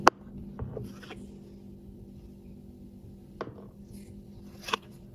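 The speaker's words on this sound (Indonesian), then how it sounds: "Selanjutnya ini tinggal dipotong-potong kayak gini." A knife cuts a slab of jelly into dice-sized cubes on a board, giving a few sparse, soft taps and knocks, one sharp clack at the start, quiet between strokes.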